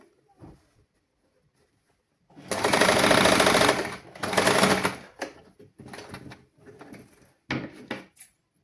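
A sewing machine stitches the open part of a garment in a basic tailoring lesson: one long loud run of stitching, then several shorter bursts separated by pauses.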